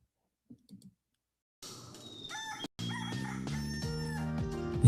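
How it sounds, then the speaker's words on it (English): A rooster crows a loud, drawn-out cock-a-doodle-doo that fills the second half of the clip, after a short quiet lead-in with a couple of faint clicks. "So here's a little cock-a-doodle-doo just for you."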